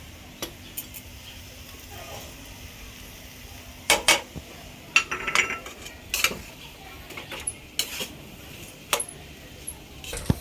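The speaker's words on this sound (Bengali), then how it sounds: "এইভাবে আলুটাকে ভালো করে মশলার সাথে মিশিয়ে নিলাম" Mashed potato being mixed with spices in a bowl for a mango chop, with irregular light clinks and scrapes of a utensil against the bowl, quiet and close, without talk.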